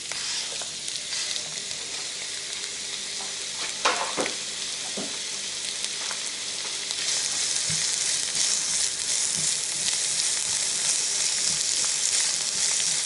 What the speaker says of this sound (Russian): Так, идем уже обжаривать лучок.